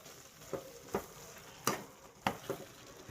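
Mushroom chilli being stirred in a hot pan, a low steady sizzle broken by four or five sharp scraping strokes of the spoon at uneven intervals, close and fairly quiet with no talking.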